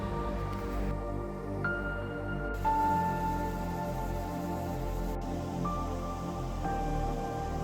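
A steady rushing roar of Soochippara Falls in Wayanad, Kerala, at low dry-season flow fills the scene, constant and unbroken, with faint tonal hums in the background.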